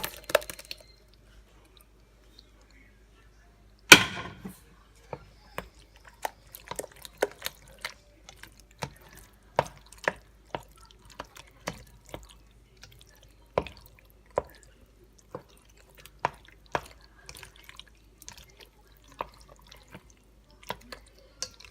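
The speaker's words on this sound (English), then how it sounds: "I'm going to go ahead and stir my cheese into the noodles." Cheese being stirred into cooked macaroni noodles for baked mac and cheese, making soft, wet squishing and sticky clicking sounds in an irregular rhythm, close and fairly quiet, with no talking.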